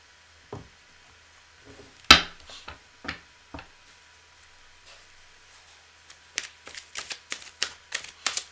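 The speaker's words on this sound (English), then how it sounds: "I just did a bunch of shuffling" A deck of cards is shuffled for a reading: scattered crisp snaps and riffles, then a quick rapid run of flicking taps near the end, close and clear in a quiet room.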